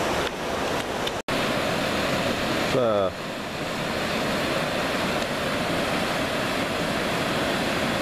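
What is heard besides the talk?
Elliot Creek flowing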